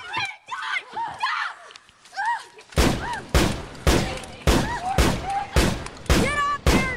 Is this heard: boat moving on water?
no